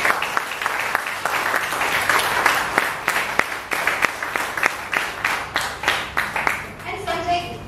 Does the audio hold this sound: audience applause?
yes